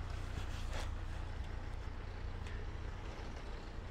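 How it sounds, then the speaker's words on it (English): A noisy car close by, its engine a heavy low rumble droning steadily throughout with some hiss above, constant and fairly loud. "There's a noisy car here."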